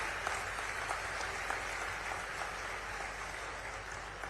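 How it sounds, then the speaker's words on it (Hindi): A crowd at a public event for Madhya Pradesh Chief Minister Mohan Yadav in Guna applauds steadily, heard as a dense, continuous wash of clapping over a low rumble. "तालियों की गड़गड़ाहट के साथ में"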